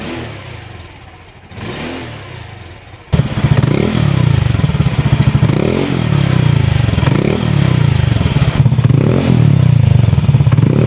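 Honda Beat V3 scooter fitted with a TRC exhaust pipe, engine running loud and close with repeated throttle blips and revs after a quieter start.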